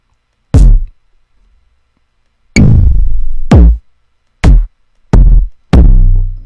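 Five punchy digital kick drum samples, deep and booming with a sharp attack, spaced irregularly with short ringing tails, loud and alone.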